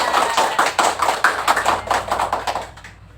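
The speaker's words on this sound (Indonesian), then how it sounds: "Oke, tepuk banyak." A classroom of students claps many times at once, in quick overlapping bursts, loud and close, with no talking.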